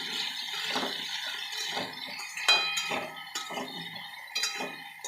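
Bright metallic scraping and clinking of a spatula stirring ridge gourd, pointed gourd, potato and taro in oil in a pan for a thin summer fish curry, repeating in a steady rhythm up close.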